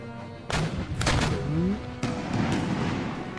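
Cannon volleys fired at infantry in the strategy game Empire: Total War: several heavy booms land in quick succession, with low rumbling battle noise rolling on between them.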